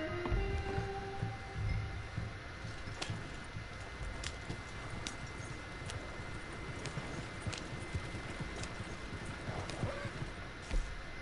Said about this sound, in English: Spanking the hell out this horse.